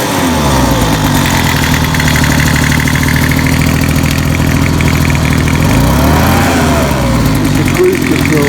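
A secondhand Homelite 200 mph gas leaf blower runs close and loud, a continuous buzzing two-stroke engine drone with a brief rise and fall in pitch near the end.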